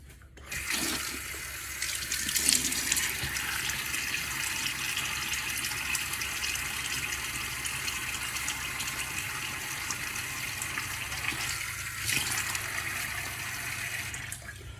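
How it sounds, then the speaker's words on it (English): Tap water runs steadily at close range while a face is wetted before a shave, with brief louder splashes near the start and again around twelve seconds, and no talking. "Let me get my face wet."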